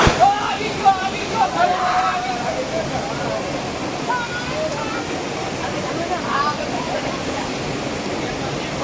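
People splash and play in flowing water at the Jatashankar Mahadev stream, a steady rush of water with scattered splashes throughout and faint voices mixed in.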